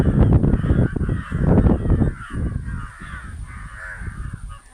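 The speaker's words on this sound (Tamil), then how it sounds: "எல்லா மரத்துலேயும் உள்ள காக்கா சத்தம் போட்டுட்டு இருக்குது." Several crows caw loudly and repeatedly from trees full of birds, two of them fighting and pecking at each other, the harsh calls overlapping in busy bursts that fade somewhat toward the end.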